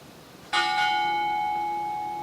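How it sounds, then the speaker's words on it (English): Two sharp strikes of a ship's bell come close together at a US Navy retirement ceremony, followed by a long, clear ringing sustain that gradually decays. "Sound. 2 bells."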